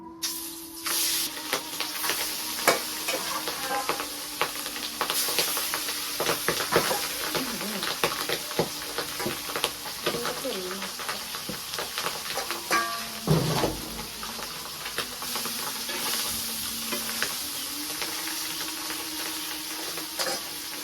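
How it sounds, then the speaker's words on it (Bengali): Fish frying in hot oil in a home kitchen, a continuous loud hiss and spattering crackle throughout with a few clatters and scraping touches along the way. "মাছটি দিয়ে দিই মাছ ভেজে নিই"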